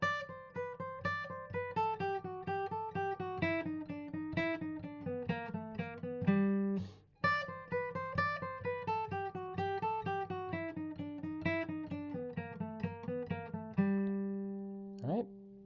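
Guitar strings pick a fast scale pattern rooted on G, note after note in an even flowing rhythm, played close and clear with two short runs separated by a brief pause and ending on a sustained bent note.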